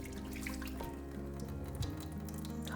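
Water runs and splashes as millet is rinsed through a colander under a tap in a kitchen, a steady close pour with small shifts as the grains are swished.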